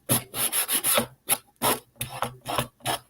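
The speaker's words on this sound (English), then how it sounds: "I am just going to take my sanding block and just trim the edge" Rough, rasping strokes of a sanding block scraping along a paper edge, a quick run of rubs followed by several separate scrapes, close and fairly loud.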